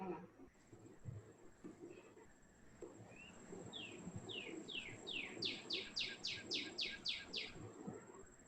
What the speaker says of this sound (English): That's a Washington bird for you.